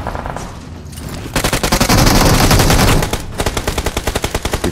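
Automatic weapons fire rapidly in a fight in the mobile battle royale BGMI, with loud sustained bursts of close gunfire followed by a steady rhythmic string of individual shots.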